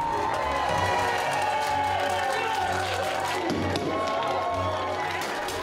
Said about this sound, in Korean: 다들 격한 축하의 박수로 맞아주세요.